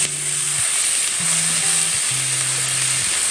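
Chilies, onion and capsicum frying in a hot pan, with a steady loud sizzle throughout and low tonal hums from a nearby appliance underneath.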